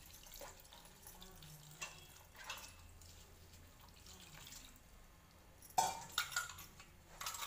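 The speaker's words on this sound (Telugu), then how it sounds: "అలా 4-5 times అలా పోస్తూ కడుగుతూనే ఉండండి" Water is poured and splashed while chopped banana flower is washed and squeezed by hand, giving quiet trickles, drips and a brief louder splash near the end, close and soft.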